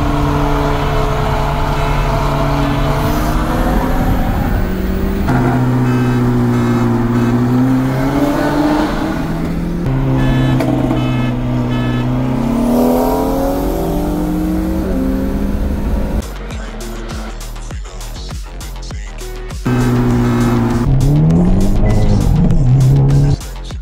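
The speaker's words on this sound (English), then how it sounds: "you give it a little bit of both, feather it, and then you get a nice boost" A manual Hyundai Elantra N engine revs repeatedly while brake boosting, pitch climbing and dropping in steady surges, loud and close, with a rougher burst of revving near the end.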